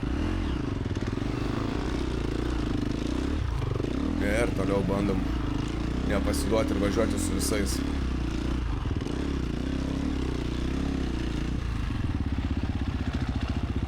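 A motocross bike ridden in a cross-country race roars continuously up close, its engine note rising and falling over rough terrain with clattering and scraping, while the rider talks over it.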